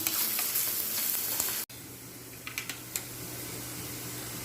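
Spices crackle and sizzle loudly in hot oil for a tempering, then cut off abruptly, leaving a quieter hiss with a few small pops and clicks.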